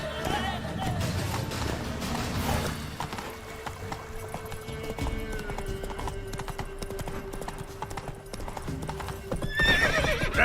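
In The Witcher 3, the horse Roach gallops with rapid, continuous hoofbeats and a whinny, set against steady game ambience.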